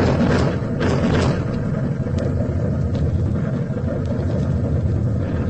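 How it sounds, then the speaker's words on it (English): A loud, continuous low rumble of an atomic explosion like distant thunder, rolling on without a break, dense and sustained throughout. "The sound of the explosion finally caught up with us. Out of the great silence came a mighty thunder."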